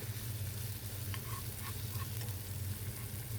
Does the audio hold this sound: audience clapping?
no